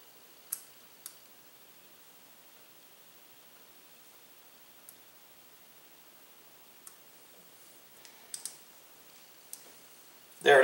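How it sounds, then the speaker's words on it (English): Screw on a Desert Eagle 1911 pistol grip being turned backward, giving a few sparse, faint, sharp clicks spread over a quiet stretch, ending in a louder burst of handling noise. "I always go reverse till I hear a click."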